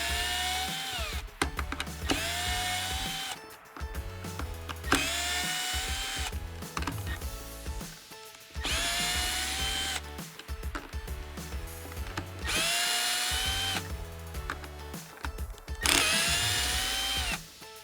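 A power drill spins out the pump screws on a vacuum generator in repeated whirring bursts, each rising and cutting off, with short ratcheting clicks and handling noises between, close and clear.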